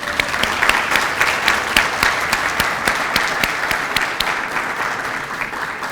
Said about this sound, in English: Now, may we applaud.